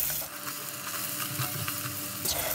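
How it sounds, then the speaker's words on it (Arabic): Minced onion and pepper sizzle softly in a spoonful of oil in a pan, a steady low hiss with faint scrapes of stirring, close but quiet. "ومعلقه من الزيت، وهنزل بقى ببصلايه مفرومه"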